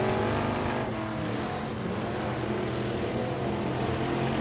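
Race cars roaring around the oval at Sabine Speedway, a steady, loud blend of engines droning from a distance without a break, with no clear individual pass-by.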